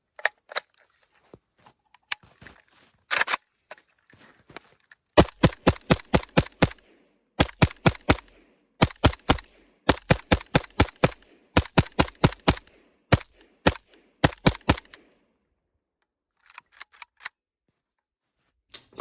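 Rapid bursts of AK rifle fire in 7.62x39, sharp loud cracks in quick strings of several shots with brief pauses between, a few scattered single shots at the start and a handful of fainter shots trailing off near the end.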